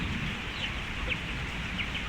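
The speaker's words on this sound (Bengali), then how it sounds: "আজকে দেখাইলাম একটা মুরগির বাচ্চা এক পা" A one-legged chick at a poultry farm gives a few faint, thin high peeps over a dense, steady low background noise.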